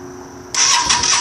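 A 2008 Yamaha V-Star 650 motorcycle engine cranks briefly and catches halfway through, rising into a loud, close, rough idle.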